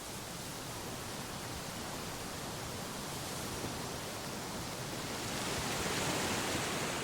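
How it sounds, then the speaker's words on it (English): A waterfall in Ticino, Switzerland gushes in a dense, steady roar of rushing water that swells slightly louder toward the end, with no other sounds. "One sound is typical of Ticino, the gushing of waterfalls."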